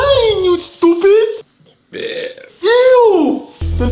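Loud, drawn-out burps come close to the mic, one of them long and sliding downward, with excited talking around them in a Hello Neighbor game.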